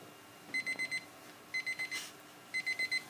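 An alarm clock rings in three bursts of rapid electronic beeps, each burst of four or five tones separated by short pauses, fairly close.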